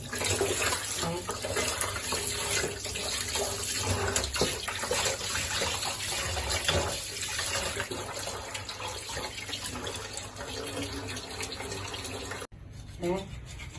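A tap runs steadily while dishes are washed, giving a continuous close splashing rush with faint rubbing and clinks, then cutting off near the end.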